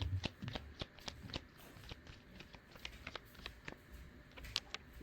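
Tarot cards are handled and shuffled close up, a run of quick papery riffles and soft slaps in an irregular rhythm, with no talking over them.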